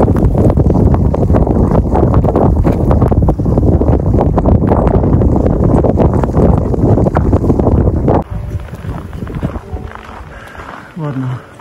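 Strong cold wind on a winter Carpathian mountain trail, loud buffeting gusts pounding the microphone for about eight seconds before easing to a quieter blow, with someone talking underneath.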